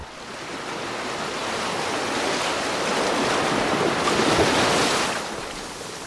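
Waves wash against a wooden ship's hull at sea in a continuous broad rushing surge that swells gradually and eases off, with no voices.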